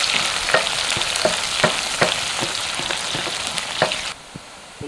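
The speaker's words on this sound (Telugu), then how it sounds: "ఉల్లిగడ్డ అయితే మంచిగా ఇట్లా బ్రౌన్ కలర్ వచ్చే వరకు మంచిగా అయితే ఫ్రై చేసుకోవాలి." Onions frying in a pan for a spinach chicken curry, with a loud continuous sizzle broken by regular spatula taps and scrapes about every half second. The sizzle drops off sharply near the end.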